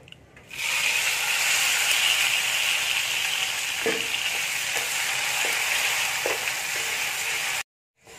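Chopped tomato hits hot oil with bay leaf, dried chili and five-spice, bursting into a loud, steady sizzle that holds evenly with a few light stirring knocks before cutting off abruptly.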